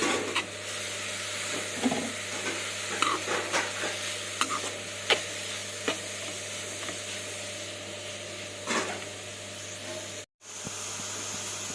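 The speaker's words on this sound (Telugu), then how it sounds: "దాంట్లోనే మన ఈ క్యారెట్ తురుము అయితే పచ్చివాసన పోయేదాకా వేయించుకోవాలి." Grated carrot stirred and fried in ghee in a pan for carrot laddu, a soft steady sizzle with occasional scraping strokes of a spoon, fairly quiet and continuous with no talking.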